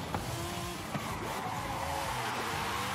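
A McLaren F1 GT in Forza Horizon 5 buzzes against the rev limiter in first gear, a steady high engine drone held at a constant pitch with faint tyre noise, no talking.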